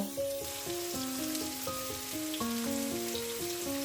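Onion, carrot and beans stir-fry in a pan for street-style veg chowmein, a bright steady sizzle under a plucked melodic music bed, with no talk.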